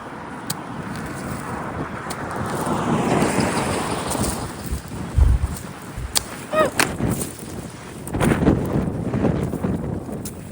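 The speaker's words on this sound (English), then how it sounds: "it's still very, very windy." Strong gusts of wind buffet the microphone in rumbling surges, with a few sharp knocks and bursts of noise between them.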